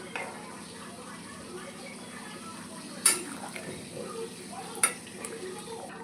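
Fish curry with garam masala being stirred in a pan: a soft continuous sizzle with a couple of sharp metallic clinks of the spoon against the pan.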